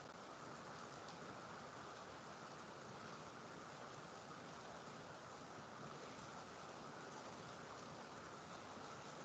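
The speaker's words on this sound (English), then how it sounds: "It's heavy raining." Heavy rain falling steadily, a dense unbroken hiss that stays even from start to finish with no voices over it.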